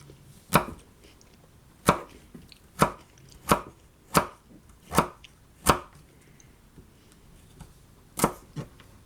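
A Mora Garberg knife chops through carrots with eight sharp, evenly spaced strikes against a board, each a crisp close knock with quiet gaps between and no voices.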